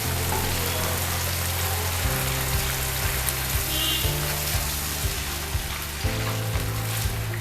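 Broccoli soup begins bubbling in a pot, with a continuous crackling sizzle over a low humming drone that shifts in pitch every few seconds, and faint soft pops.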